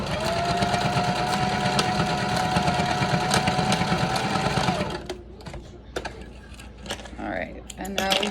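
A sewing machine stitching a line along a fabric wristlet, whirring steadily for about five seconds before stopping, followed by softer handling noises and brief rustles.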